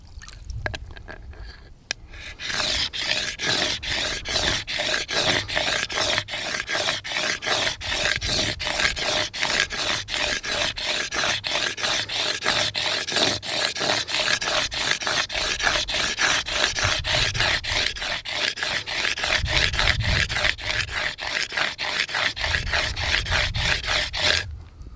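Something is rubbed back and forth across an abrasive stone surface in a steady, rhythmic rasping that continues loud and close for over twenty seconds, with no talking.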